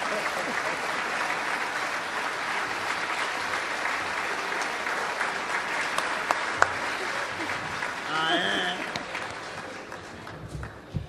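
An audience at an international pajada, an improvised folk singing duel, applauds with steady clapping that fades toward the end, where a voice begins speaking.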